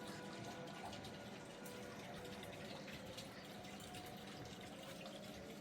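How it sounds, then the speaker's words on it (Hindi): Flowing water runs steadily and softly at the start of a quiet early morning at home, a continuous low rush with no voices. "बिल्कुल शांत माहौल और इसमें पानी की आवाज़ बहुत सुंदर लग रही थी"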